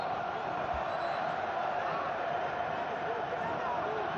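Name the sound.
Botafogo fans cheering in football stadium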